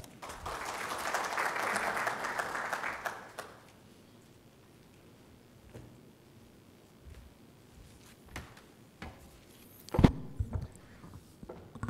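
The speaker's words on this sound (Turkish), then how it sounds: "Türkiye Yazarlar Birliği Genel Sekreteri Yardımcı Doçent Doktor Muhammed Enes Kalay'ı kürsüye davet ediyorum alkışlarınızla" Audience applause at an ethics and economics council opening in Hatay greets a speaker coming to the podium, a moderate burst of clapping that fades within a few seconds into quiet room noise and occasional knocks.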